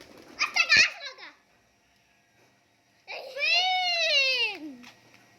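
Pigeons being fed by hand, giving a short burst of bird calls followed by a longer, loud, close call that slides downward, with quiet between the two.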